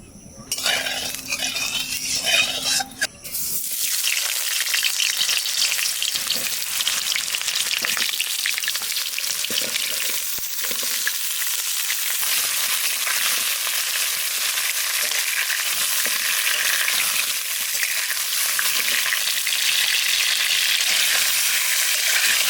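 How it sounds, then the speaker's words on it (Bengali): Potatoes hiss and crackle as they fry in a pan ahead of a mutton curry, a loud, continuous sizzle starting a few seconds in after a quieter opening, with occasional scrapes of stirring. "খাসির মাংস রান্না চাপানোর আগে আলুটা ভেজে তুলে রেখে দিই।"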